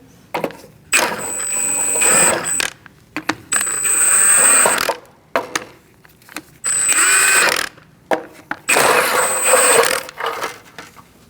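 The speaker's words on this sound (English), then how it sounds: "Using a 19mm socket, we're going to remove our hubcap gently." On a Chevrolet HHR, a 19mm socket works loose a hubcap in several sharp mechanical bursts of ratcheting and whirring, separated by short quiet gaps.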